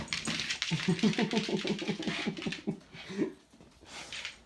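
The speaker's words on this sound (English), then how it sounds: "You'll hear lots of whining, growling, grumbling." Terrier dogs playing close by, a steady run of low, rumbling growls and grumbles with whiny edges, fairly faint and continuous, with scuffling in the background.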